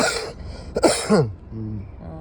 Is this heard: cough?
yes